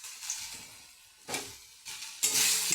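Spices with chilli, turmeric, cumin powder and salt frying in oil, heard as soft bursts of sizzle and scraping as the mixture is stirred, fairly quiet and close, with short pauses between strokes and no talking.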